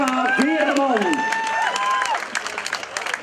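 Applause and some cheering from a crowd at a village cycling race in Lekkerkerk, held in the polder, sustained and fairly loud, with an announcer's voice and a brief music jingle over the start.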